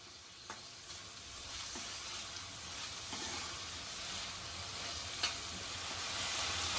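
Chopped tomatoes frying in masala in a pan for bhendi fry masala, a steady soft sizzle with occasional stirring clicks, close and continuous with no talking.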